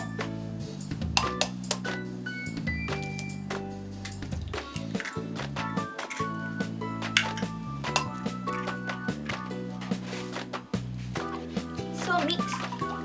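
Two eggs being whisked in a bowl, a quick run of clinks and scraping against the dish over steady background music.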